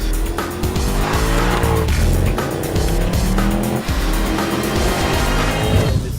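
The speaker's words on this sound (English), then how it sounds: "CLK 63 on the figure 8." Mercedes-Benz CLK 63 AMG Black Series from 2008 driven hard around a figure-8 course, engine roaring loudly and steadily while tires squeal and skid continuously throughout.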